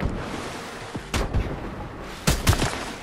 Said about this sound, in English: Shoot her a couple times, please.